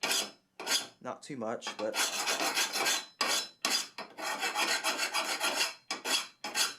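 A sharpening stone smooths a lawn mower blade in repeated long, loud, gritty rasping strokes close up. The strokes come in steady back-and-forth runs with short pauses, and someone briefly speaks between them.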